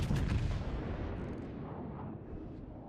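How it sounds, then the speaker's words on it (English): Battleship main guns firing in the naval game World of Warships, aboard the Montana, a loud deep boom at the start that rolls away into a long fading rumble. "Concentrate fire on the enemy warship."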